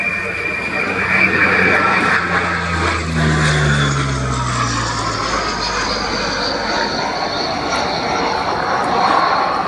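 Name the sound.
Bréguet Atlantique 2 patrol aircraft engines during display flight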